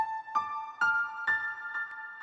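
A synth melody climbs an ascending major scale in FL Studio, with about six clear, evenly spaced note onsets that ring alone and carry bright harmonics.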